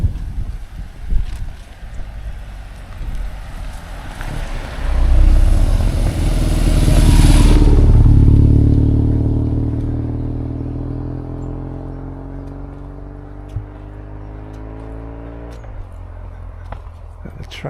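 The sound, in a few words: traffic passing on a country road in Jersey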